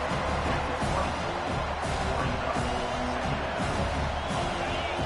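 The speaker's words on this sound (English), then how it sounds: "This crowd, full throat, spreading the eardrums and letting them know it's going to be a long day." Stadium crowd in the College Football 25 video game roars at full volume, a dense, continuous wall of cheering and shouting that holds steady throughout with no clear talk on top.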